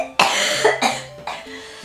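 Three harsh coughs from someone who is sick, close and loud, each a broad noisy burst with short pauses between.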